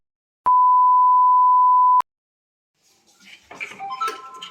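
A steady electronic beep tone holds for about a second and a half, ending abruptly, followed by a pause and then faint, muffled voices and clatter.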